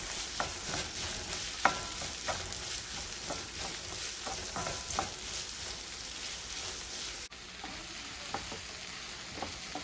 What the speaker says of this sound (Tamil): ஆனியன் நல்லா ஃப்ரை ஆயிடுச்சு